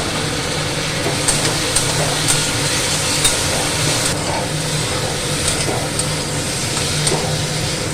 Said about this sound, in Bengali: এরপর একটু কষাবো।